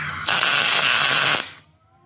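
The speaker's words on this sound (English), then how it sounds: "we're going to do a little tack weld demonstration for you guys here" A single tack weld on steel during off-road vehicle fabrication: a crackling, hissing burst lasting about a second, close and loud, then cutting off into quiet.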